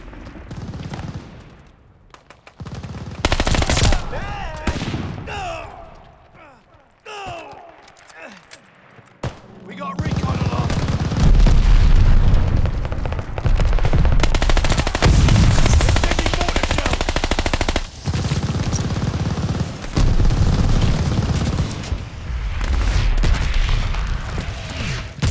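Rapid bursts of video game gunfire, including pistol shots and machine-gun fusillades, play loudly and almost continuously, with a quieter patchy stretch early on and players talking over the action.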